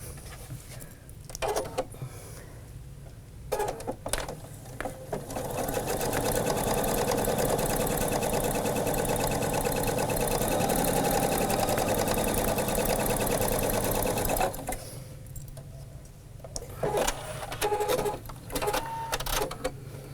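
A sewing machine at a quilt and sewing shop runs steadily for about ten seconds, stitching a straight seam through fabric, with brief starts and stops and quiet handling before and after.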